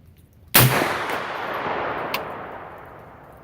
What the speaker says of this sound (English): This is a supersonic load. This is not subsonic, so it's not going to be super quiet